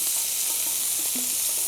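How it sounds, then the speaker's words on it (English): Steaks sizzle and spit steadily in a hot pan, a dense hissing crackle filling the brief stretch without pause. "Check our steaks. They seem to be sizzling nicely."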